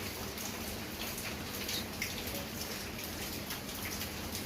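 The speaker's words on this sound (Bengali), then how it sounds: "এখন তো টানা বৃষ্টি হচ্ছে কয়েকদিন" Continuous rain falls in a steady, soft wash of patter and drips, faint but unbroken, with no one speaking.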